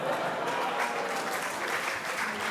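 Steady, dense applause from an audience at the final of a university eloquence contest, filling the whole stretch at an even, sustained level with no voices standing out.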